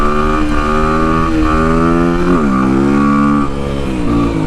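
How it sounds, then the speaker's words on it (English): A 2005 Kawasaki KLX300R plated dirt bike revs hard through second gear in a power wheelie, its loud close engine note climbing steadily, dipping briefly at a shift, then rising again without a break. "this is a second gear power wheelie"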